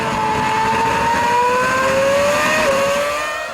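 Formula 1 cars from the 2007 season, a Ferrari and a McLaren, roar past at high revs, their engine whine loud and steady with a rising then slightly dropping pitch as they race by close.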